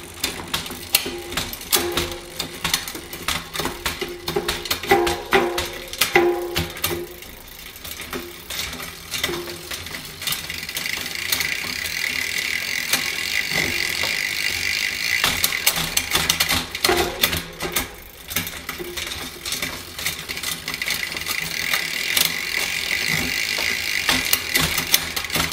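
Shimano XT 11-speed mountain bike derailleur shifting across a 12-speed Eagle cassette into harder gears, giving a steady run of close mechanical clicks and chain rattle that continues throughout with no talk.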